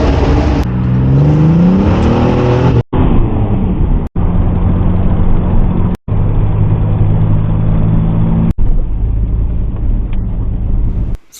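A Fiero GT engine revs up and accelerates loudly through several gear changes, each shift marked by a brief drop before the roar resumes.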